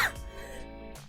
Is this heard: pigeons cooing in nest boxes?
no